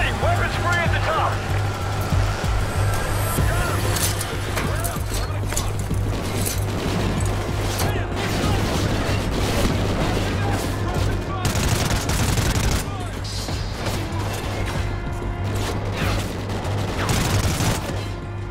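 Loud, sustained gunfire from the video game Call of Duty Ghosts, dense bursts and shots layered over a steady engine-like drone and game music, with voices talking through the action.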